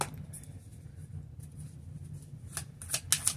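Tarot cards being shuffled by hand, a soft riffling patter under low room rumble, with sharper crisp flicks and snaps of the cards toward the end, close and quiet with no talk.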